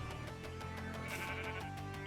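A sheep in a video game gives a few short bleats over a steady game backdrop, clear and close for about two seconds.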